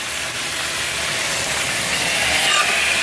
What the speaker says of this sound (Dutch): Dus ik ben hier eventjes een heerlijk lamskoteletjes aan het bakken.